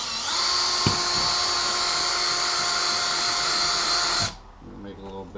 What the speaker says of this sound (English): And I'm just going to drill